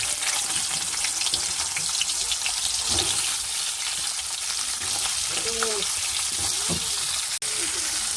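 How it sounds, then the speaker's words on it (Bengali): Pointed gourd (parwal) end pieces frying in hot oil, a steady broadband sizzle running throughout with a few brief stirring clinks and a sharp click near the end. "বাদ দেওয়া অংশগুলো এবারে ভাজবো।"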